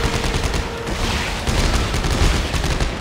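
Rapid, continuous gunfire from a plasma cutter and other weapons in the co-op shooter Dead Space 3, dense and unbroken for the whole stretch with no talking.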